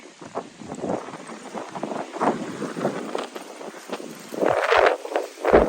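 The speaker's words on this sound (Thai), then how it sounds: "ลมโวดลมโพดเลย" Strong wind gusting hard enough to break trees on a rural planting plot, roaring and buffeting the microphone in uneven surges that swell loudest near the end, with no talking.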